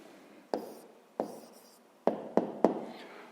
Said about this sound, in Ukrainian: зараз записуємо відповідь